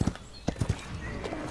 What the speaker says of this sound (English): The master is here on his red golden horse.